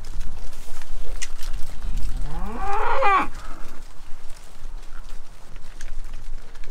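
A single long, drawn-out cow moo rises and falls near the middle, over steady outdoor background noise.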